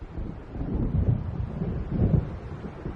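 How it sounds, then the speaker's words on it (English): Deep rolling thunder of an approaching storm in the Alan Wake video game, a low sustained rumble that swells twice over a few seconds with no talk. "It seems there's a storm coming."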